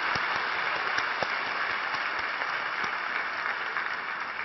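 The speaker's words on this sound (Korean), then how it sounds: "우리 리더십들에게 격려의 박수 한번 보내주시겠습니다" Sustained congregational applause fills a church youth worship service, a dense, even wash of clapping lasting throughout, moderately loud and steady, cheering on leaders back from a three-day training retreat.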